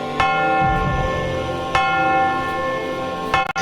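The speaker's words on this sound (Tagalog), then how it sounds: "habang tumutunog ang kampana." A church bell tolls three times at slow, even intervals, each strike loud and ringing out with a long sustained hum, while three priests and soldiers walk toward a new town during the Cavite Mutiny.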